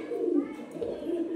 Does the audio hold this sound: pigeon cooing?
yes